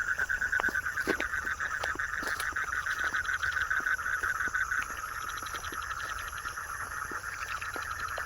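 Crickets chirping at night beside a pond, a steady, high, pulsing trill that runs throughout, with scattered clicks and faint background night sounds and no voices.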